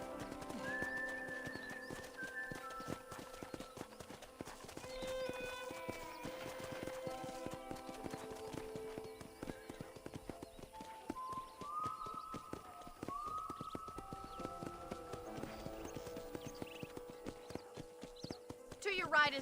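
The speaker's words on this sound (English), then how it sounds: "let's see if you can still ride a horse" Hooves clip-clop in a steady trotting rhythm as a horse is ridden in the Red Dead Redemption video game, under background music and occasional character dialogue.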